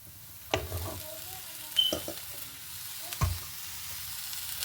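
Chopped vegetables for a thoran go into a hot pan and sizzle faintly, with a few sharp clatters and stirring knocks against the pan over a low, steady frying hiss.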